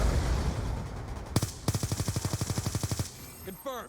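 A Peacekeeper SMG fires in Black Ops 2, first one sharp shot, then a rapid, evenly spaced burst of about fifteen loud rounds over game background noise, with a brief voice afterward.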